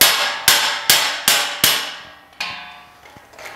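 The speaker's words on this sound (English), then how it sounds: "Hopefully it's the weld tearing, not the tube." Loud metallic impacts as a steel weld tears while a trailer winch mount is removed: five sharp blows with ringing decay, evenly spaced, then fainter strikes, close and alone.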